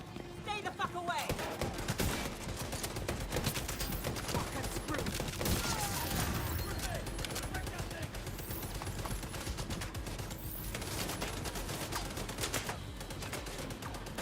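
Rapid gunfire in The Division 2 video game, sustained bursts of automatic shots crackling fast and steady throughout, fairly quiet in the mix with a voice speaking over part of it.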